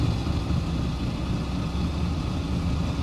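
A 1968 Beaumont pro street racer's engine idles through a custom-made exhaust with a steady, low, throbbing rumble that stays loud and close throughout, with no talk over it.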